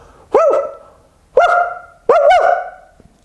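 A voice imitates a small yappy chihuahua, giving three sharp, close, loud yaps, each a rising-and-falling whine that tails off, spaced about a second apart.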